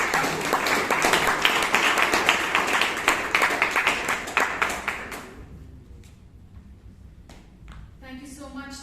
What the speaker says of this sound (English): May I request all of you to kindly give him a big round of applause.